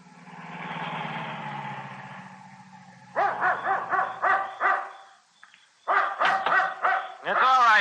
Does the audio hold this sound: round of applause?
no